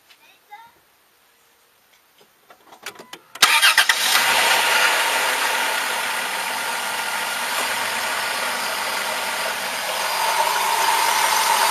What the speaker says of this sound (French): Donc là je vais pouvoir redémarrer le moteur et on va vérifier la courroie.